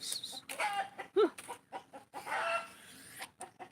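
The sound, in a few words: chicken clucking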